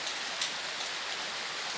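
Steady first-season monsoon rain falling continuously, an even hiss of dense drops on surfaces at moderate volume with no pauses or voices.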